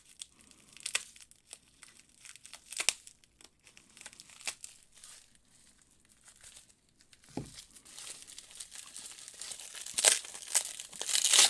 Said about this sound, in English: Let's get this tape cut.